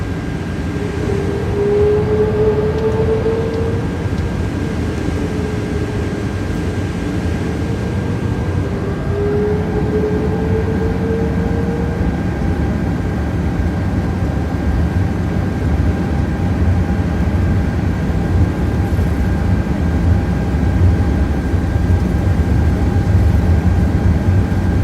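Airbus A350 jet idling in the background at an airport in Microsoft Flight Simulator, a steady low engine drone with a faint whine rising and falling, distant and unbroken.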